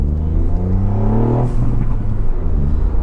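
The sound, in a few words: Ford Fiesta ST with Scorpion exhaust accelerating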